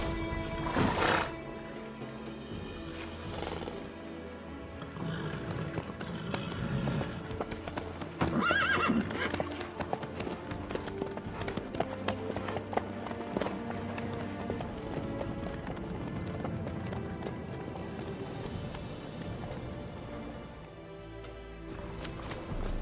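Horse hooves clip-clop steadily through a scene in The Witcher 3 video game, with an occasional whinny, heard over background music and ambience.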